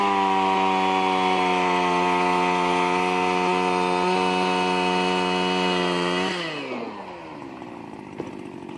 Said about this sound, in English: we're still drilling the holes with the auger